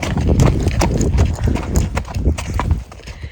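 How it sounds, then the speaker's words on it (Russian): Horses' hooves clip-clop in a steady, close rhythm during a horseback ride in Monument Valley, Arizona, loud and continuous with rustling and ambient noise. "у меня именно здесь будет вот такая вот прогулка на лошадках"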